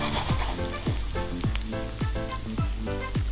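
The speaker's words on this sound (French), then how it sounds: "j'ai tout mis dans l'huile, hein, on fait tout revenir ensemble" Vegan products frying in oil in a pan, a loud continuous sizzle with crackling and repeated scraping stirs roughly every half second, close up.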